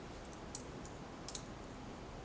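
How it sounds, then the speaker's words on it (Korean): A few quiet computer mouse clicks, right-clicks while mapping in GIS software, sound as two or three faint separate ticks over a low room hiss. "오른쪽 클릭"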